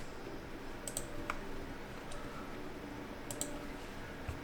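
Keys on a Keychron K8 keyboard being pressed, a few sharp separate clicks spread over several seconds against a quiet background hum.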